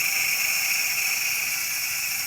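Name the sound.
steam hissing as it is released from a cooking pot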